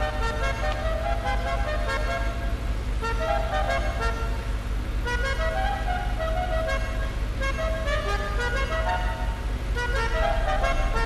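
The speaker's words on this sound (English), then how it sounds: "Some new horns, love that." Car horns in GTA V honk in a series of short tonal toots, several different horn sounds tried one after another over a steady engine idle and background game music, loud and close.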